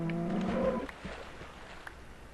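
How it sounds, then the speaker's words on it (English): Cow in Minecraft letting out one low, drawn-out moo that fades into quiet background noise. "Get out of my hot tub, cow. That is not the place for you."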